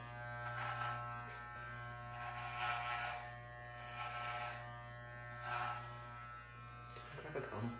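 Electric clippers buzz steadily while shaving a man's head, a constant close hum that pulses louder and softer as the blades move across the scalp.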